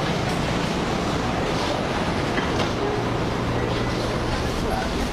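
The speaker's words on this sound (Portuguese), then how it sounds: "O metrô não demora a chegar." Metro train at Cajueiro Seco station platform in early morning, a steady loud rumble of rail transport filling the crowded platform with continuous noise, with some voices mixed in.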